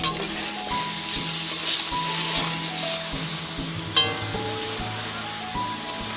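Spice paste is being sautéed in a pan in a home kitchen, giving a steady, close frying sizzle with a few sharper clicks and knocks of stirring and no voices.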